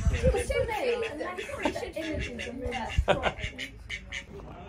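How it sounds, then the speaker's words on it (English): Ducks quack in a noisy outdoor scene, repeated calls mixing with voices and rustling nearby. "Thought you'd come to feed the ducks then."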